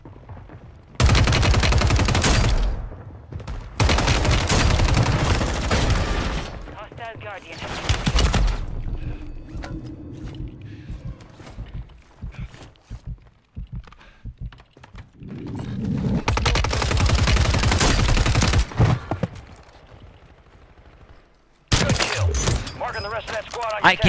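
Long bursts of SMG gunfire in Call of Duty: Warzone, loud and close, broken by pauses with quieter shots and clatter between volleys.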